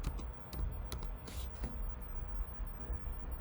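Computer keyboard typing, quiet quick taps in short bursts over a low background hum, with no clear speech.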